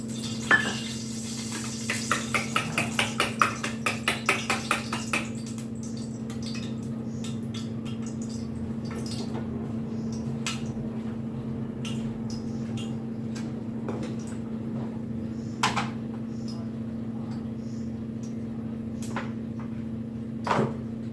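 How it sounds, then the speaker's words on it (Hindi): A spoon tapping and cracking open an egg in a kitchen, a quick run of sharp clinks near the start, then a few isolated taps over a steady hum. "मैं ऐसे चम्मच से खोलती हूँ ना अंडे को"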